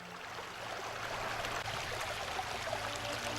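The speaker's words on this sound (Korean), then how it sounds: "압록강의 소연한 물소리" The Yalu River flowing near Pochonbo in Ryanggang Province, a steady broadband rush of moving water that holds even and continuous throughout, with no voices.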